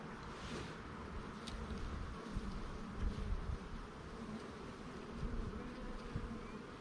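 A steady, dense buzzing of many honey bees close by at an opened hive on a bee farm, continuous throughout with slight swells in intensity.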